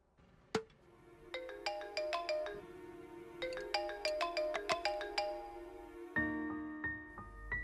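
A mobile phone ringtone plays for an incoming call. It is a melodic electronic tune in repeating bursts of bright beeping notes, clear and fairly near, with no talk over it.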